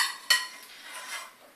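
A pan is washed up by hand in a home kitchen: one sharp metallic clank near the start, then soft scraping and light splashing, fairly quiet with no voices.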